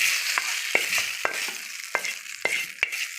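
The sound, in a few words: sizzling tempering added to ground gongura paste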